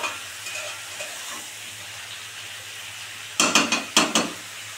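Bhetki fish head chorchori cooking in oil in a pan, a steady soft sizzle running throughout, then a handful of sharp scraping stirs against the pan near the end.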